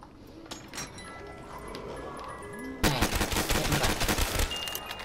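A gun fires in Call of Duty: Black Ops III Zombies on the Kino der Toten map: quieter game noise and a few scattered shots at first, then a loud, dense burst of rapid fire fills the last couple of seconds.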